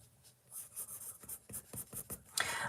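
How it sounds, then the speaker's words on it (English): A beige blending pencil is coloured over paper in quick, rhythmic scratchy strokes. It is close and fairly quiet, and each stroke is a short dry rasp. "just using this beige, almost like a blending pencil, straight over all of the artichoke"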